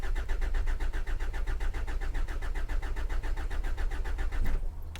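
A Hyundai Santa Fe engine cranks without catching, the starter churning in a fast, steady rhythm, loud and close, before cutting off near the end.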